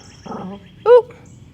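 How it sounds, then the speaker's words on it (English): Dog whimpering indoors during a home yoga class, two short whiny vocal sounds close by, the second louder and higher. "someone's come in, the dog's gonna bark"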